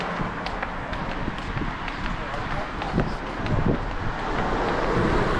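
Steady wind roars and buffets the microphone outdoors, a constant rushing noise that swells slightly toward the end.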